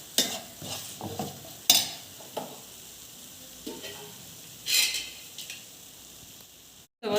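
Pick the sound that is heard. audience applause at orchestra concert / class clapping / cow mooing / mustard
mustard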